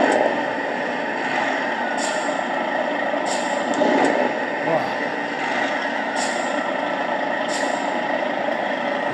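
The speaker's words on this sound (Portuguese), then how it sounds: "Estou dirigindo aqui o Grand Truck Simulator 2, jogo excelente." Simulated truck engine from the mobile game Grand Truck Simulator 2, a steady droning rumble with faint periodic hiss bursts like air brakes, continuous throughout.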